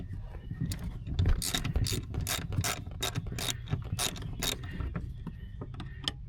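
Ratchet fitted with a socket on one side and a small screwdriver end on the other, loosening a bolt: a string of sharp, rapid clicking bursts in short uneven runs, close and fairly quiet.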